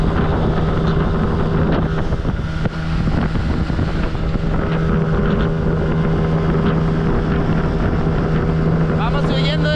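Strong wind and engine roar on a motorboat fleeing an approaching storm during a fishing trip, loud and continuous with buffeting gusts hitting the microphone.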